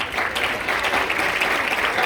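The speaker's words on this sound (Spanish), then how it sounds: "para quien pido por favor un fuerte aplauso." Steady audience applause at a school event at Colegio San José, dense continuous clapping from a crowd welcoming a guest, no voices over it.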